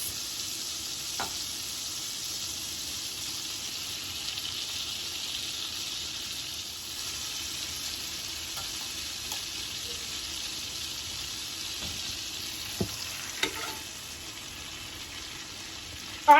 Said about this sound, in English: We want it to be a nice light sizzle.